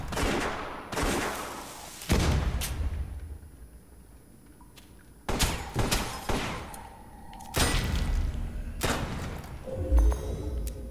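Pistols fire in the video game West of Dead in loud, sharp bursts: a few shots up front, a quieter gap, then more clustered volleys with booming low thuds and lingering echoes.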